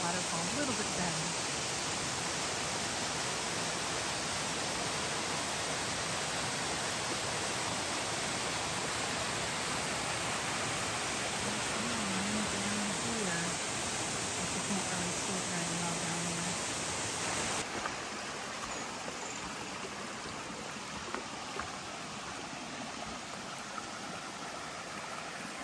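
Steady rushing water, like a waterfall or cascade heard from nearby, a continuous broadband roar that softens slightly toward the end.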